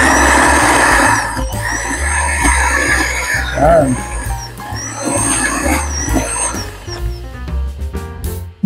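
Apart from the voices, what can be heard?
blender pureeing cooked rice porridge (lugaw)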